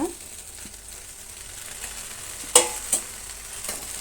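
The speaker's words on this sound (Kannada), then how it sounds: "ನೀಟಾಗಿ ಕಲಸೋಣ. ಟೊಮೆಟೊ ಜೊತೆ ಚೆನ್ನಾಗಿ ಬೇಯಲಿ." Ladies finger gojju with tomato cooks in a pan, a soft steady sizzle with a few sharp clinks of a spoon against the metal.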